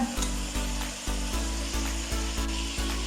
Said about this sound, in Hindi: एक चूल्हे पे हमने चिकन रख दिया